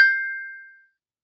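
A phone notification gives a single bright ding that rings out and fades over most of a second, clear and alone with no speech.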